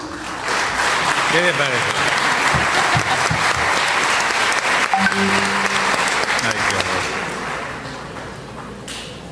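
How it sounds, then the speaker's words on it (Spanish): Audience applause greets Father Jon Sobrino at a university dialogue event, a dense, steady burst of clapping from a large crowd filling the whole stretch, with a voice speaking briefly over it before the noise slowly tapers. "vamos a recibir con un fuerte aplauso al padre John Sobrino"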